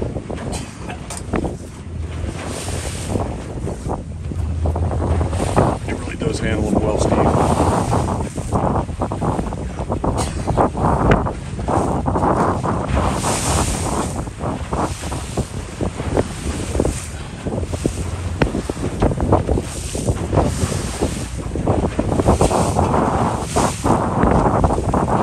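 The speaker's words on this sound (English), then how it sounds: "The Ocean 32, the world's largest duck boat, handles the Atlantic Ocean." Ocean 32 duck boat running on the rough Atlantic Ocean, a loud continuous engine and hull rumble with waves slapping and heavy wind buffeting the microphone in gusts.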